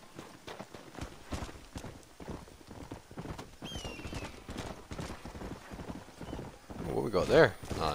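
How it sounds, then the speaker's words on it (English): Horse hooves clip-clop in a steady walking rhythm in Red Dead Redemption, a sickly looking horse, ending with a loud close whinny, while a player talks over the sound. "Fairly sickly looking horse is what that is"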